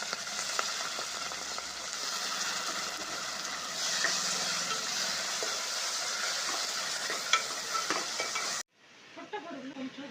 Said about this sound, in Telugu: పుట్టగొడుగులు కొంచెం రోస్ట్ చేసుకోవాలి.